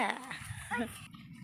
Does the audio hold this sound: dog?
yes